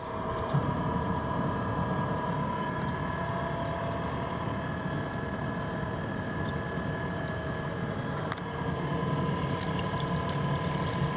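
A small boat motor runs steadily during a test drive on the water, giving a continuous, close, even drone with faint clicks and no speech over it.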